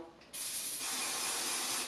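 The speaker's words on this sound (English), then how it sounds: "put your holding spray in" Hair holding spray hissing from an aerosol can after a short quiet lead-in, one continuous bright spray lasting over a second and a half, close and steady, with no talk.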